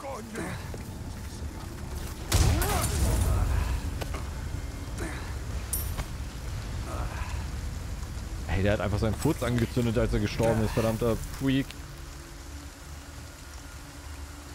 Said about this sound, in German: Wir haben auch richtig Angst vor Regen, wie es aussieht.